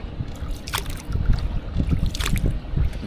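Water sloshes and swirls as a paddle churns it in short strokes from a circular basket boat in Hoi An, Vietnam, close and fairly soft, with light splashes.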